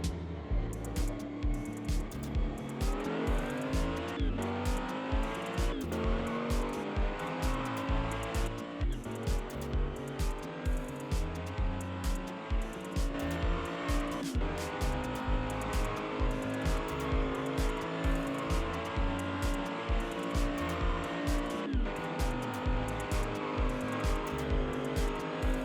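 Toy Hot Wheels cars race down a plastic track in a head-to-head run, producing a continuous rattling, whirring rumble with sharp clacks and rhythmic clatter throughout.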